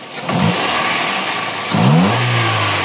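A Toyota 4A-FE car engine with an idle-up fault revs up, settles, then revs again with a rough, uneven surge, heard close by with no talking.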